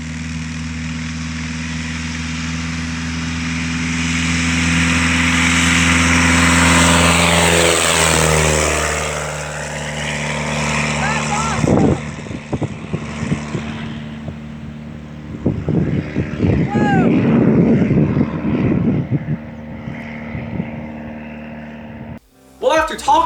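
A Carbon Cub light propeller aircraft taxis and takes off from a farm, its engine droning loud and close, swelling as it powers up and then fading into the distance, followed by outdoor talk and wind.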